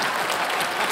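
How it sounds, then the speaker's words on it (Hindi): Studio audience applause on a televised comedy show, a loud, sustained wash of many hands clapping together, even and continuous without letup. "जोरदार तालियां"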